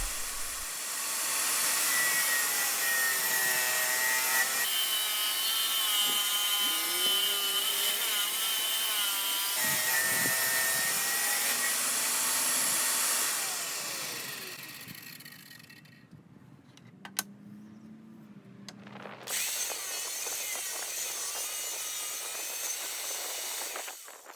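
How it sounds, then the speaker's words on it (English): A power saw rips 3/4 inch red oak lumber to width and length, a loud sustained high whine and hiss with shifting pitch. It drops away briefly to a quieter idling hum, then the cutting noise resumes. "cut the lumber to the required width and length"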